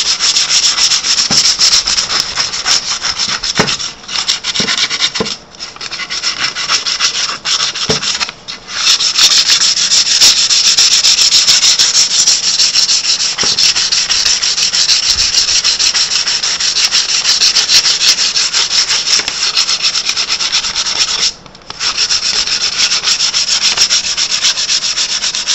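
Hand sanding wood with 100 grit sandpaper, a loud, close, continuous scratchy rasp of paper over the grain, with a few brief pauses between strokes and no talking.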